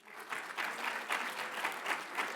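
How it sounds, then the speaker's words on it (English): An audience claps at a law school honors ceremony, sustained and moderately loud with uneven swells in the rhythm, filling the room and carrying on steadily. "Please clap."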